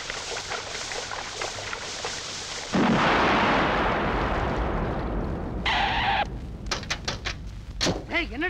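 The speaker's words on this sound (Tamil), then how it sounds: "என்னடா வெடி சத்தம் கேக்குது?" Loud explosions or firecracker blasts burst out in a film scene, a sudden heavy roar followed by scattered sharp cracks and pops, with rumbling background noise throughout.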